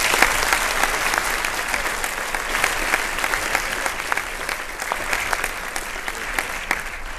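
An audience at an award event applauds the finalists with sustained, dense clapping that holds steady and fairly loud throughout, with no voices standing out.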